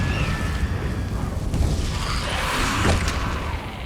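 A Confringo spell detonates in Hogwarts Legacy, giving a loud, sustained roaring blast with crackling bursts over a dense low rumble, ending with a brief swelling whoosh.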